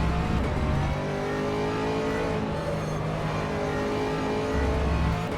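Race car engines drone and rev continuously in rFactor 2 at the Spa circuit, a dense, loud field of 38 cars on track with layered engine notes rising and falling.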